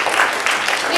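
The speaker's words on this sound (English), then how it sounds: "It's okay to clap for them." Applause in a church for people called up front to be honored, a steady, dense patter of many hands lasting about a second at moderate loudness.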